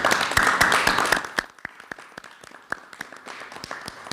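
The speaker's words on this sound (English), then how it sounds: "Let's give it a round of applause." Applause in a legislative bill-signing room as two bills become law, a dense burst of clapping for about the first second and a half that thins out into scattered individual claps to the end.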